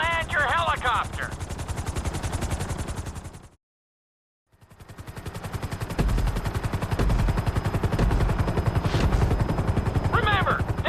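A helicopter in GTA V Flight School, its rotor chopping in a fast, steady beat that cuts out for about a second and then resumes. Brief whistling tones rise above it near the start and the end.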